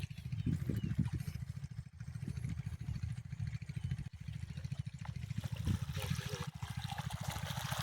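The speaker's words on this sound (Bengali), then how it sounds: "আমাদের খেতে জল চলে আসছে" Irrigation water from a pump machine flows steadily into an onion field, a continuous trickling gush over a low, droning engine hum, nearby and unbroken.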